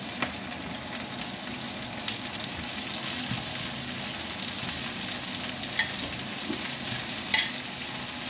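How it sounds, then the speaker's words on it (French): Garlic and bell pepper sizzling in a pan as the base for a homemade paella; a steady, close crackling fry with occasional stirring scrapes, no talking. "Et on fait revenir tout ça."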